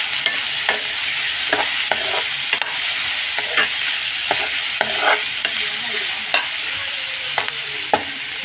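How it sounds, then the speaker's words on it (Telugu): Onions, green chillies and drumstick pieces fry in hot oil with a steady broadband sizzle, broken by repeated scraping stirs of a spoon in the pan at an irregular rhythm, close and fairly loud. "ఆ తర్వాత ఉల్లిపాయ పచ్చిమిరపకాయ నూనెలో ఫ్రై చేయాలి."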